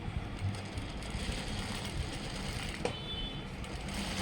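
A sewing machine runs steadily while stitching the front panel of school uniform half shorts, a continuous close mechanical whir with a brief click near the end.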